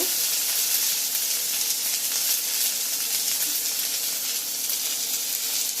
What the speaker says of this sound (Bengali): একটু হালকা ভাজা ভাজা করে নেব।